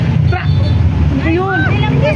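A vehicle passes on a street, a steady low rumble under close, continuous talking.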